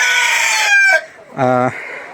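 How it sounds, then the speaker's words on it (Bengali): Two roosters kept in a poultry shed crow loudly and close by, one long crow followed by a second shorter, harmonic crow after a brief gap. "এই যে দুইটা মোরগ আছে আমাদের এখনও দেখেন এরা কি পরিমাণে চিল্লাই"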